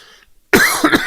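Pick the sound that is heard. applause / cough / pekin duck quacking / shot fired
cough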